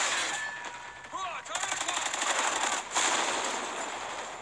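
Gunfire in Call of Duty Ghosts: rapid bursts of automatic weapon fire crackling through a game soundscape, with sharp cracks and ringing shots over several seconds and a brief pause before the shooting continues.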